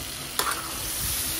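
Eggplant frying in a pan with a steady, hissing sizzle, one brief clatter of a utensil early on, then the frying continuing evenly and close; no speech.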